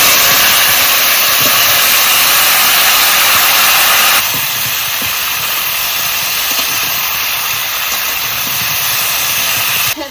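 Hog plums (bilati amra) sizzle loudly and steadily in hot oil seasoned with five-spice and dried red chilli for a chutney. The harsh frying hiss fills the whole stretch and eases slightly partway through.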